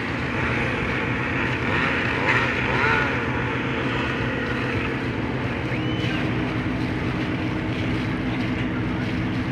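Steady, loud drone of two engines running continuously on a large boat, a dense low rumble with layered mechanical hum and no voices.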